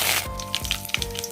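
Mustard seeds, urad dal and fennel seeds frying in hot oil in a kadai for bitter gourd poriyal: a brief, close, crackling sizzle with small rhythmic pops and spits.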